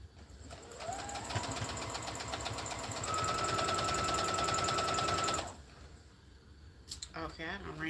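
Sewing machine running a fast, steady stitching burst for several seconds, close and loud, then stopping as the thread runs out, followed by brief handling clicks.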